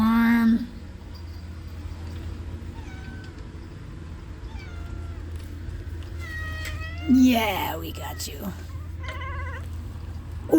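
A house cat meows several times in short, rising calls close by, with a low steady background hum throughout and people talking over it.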